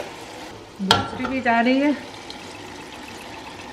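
Ragu sauce is poured into a pan of frying beef sitting in its rendered fat: a sharp clack, then a burst of sizzling with glugging, bubbly pouring, fading back to a low fry while someone talks briefly.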